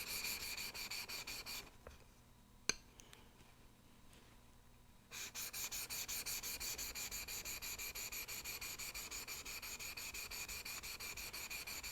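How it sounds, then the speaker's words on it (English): A chisel's back is polished on a 1500 grit whetstone, giving quiet, close, rhythmic back-and-forth scraping strokes. They pause briefly, broken by a single small click, then resume at the same even pace. "Now I'll polish the back sides of the chisel, starting with the 1500 grit stone"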